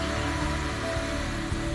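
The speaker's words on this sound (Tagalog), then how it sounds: "yung ingay ng electric fan." Steady broadband whir of an electric fan, constant and fairly loud with no pauses, running on its own without voices.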